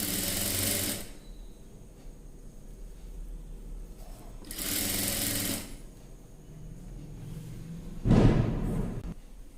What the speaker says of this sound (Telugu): ఇదంతా కూడా ఇలాగే స్టిచ్చింగ్ చేసుకుంటూ రావాలి